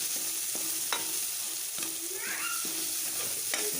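Chopped onion sizzles in a pan with turmeric, a constant close hiss punctuated by a few sharp scrapes and clinks as the pieces are tossed around, no talking.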